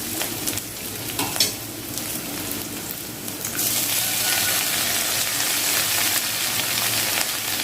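Chopped onions are sautéed in a pan with a light scraping stir at first, then a louder, steady sizzle takes over and holds to the end.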